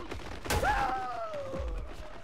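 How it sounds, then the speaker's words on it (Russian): Gunshot in the video game Paint the Town Red: a single sharp shot bursts out early, followed by a falling tonal whine and low thuds, set in game noise. "Выстрел раздался, повар упал."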